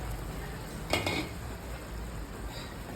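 Noodles stirred in a pot of boiling water for buldak carbonara, with a brief scraping clatter of utensil against the pot near the one-second mark over a low simmering background.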